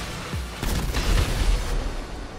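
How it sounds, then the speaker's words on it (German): An explosion goes off in GTA 5 Online as a deep, rumbling boom with a rolling low-end tail lasting a couple of seconds, loud and without talk. "Ja, schön mal explodieren."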